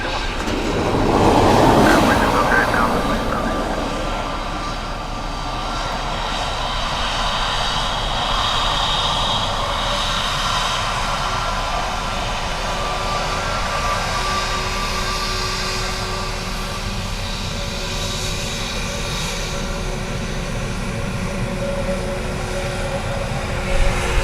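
Aircraft landing and braking on runway 28 left at Dublin Airport, a broad jet roar that swells early and then rumbles on steadily at a distance for over twenty seconds with no talk.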